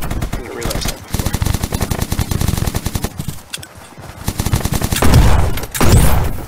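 Shotgun fire in a video game, heard as rapid, loud, repeated blasts in steady bursts. A few louder explosive bursts come near the end.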